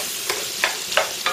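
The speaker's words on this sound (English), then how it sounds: "Kind of like stir fry, but it's cast iron fry." Shrimp frying in a cast iron pan give a steady close sizzle, broken by four evenly spaced scraping stirs that flare brighter each time.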